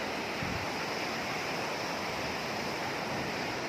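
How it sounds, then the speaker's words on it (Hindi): A waterfall pours down near a bridge on the Valley of Flowers trek in Uttarakhand, a constant dense roar of rushing water with no speech. "ऊपर से वाटरफॉल"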